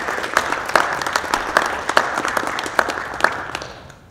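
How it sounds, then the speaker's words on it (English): An audience at a school National Honor Society induction ceremony applauds the current members, a sustained patter of many clapping hands with a few louder claps standing out, fading toward the end. "Please give a round of applause for current members of the National Honor Society"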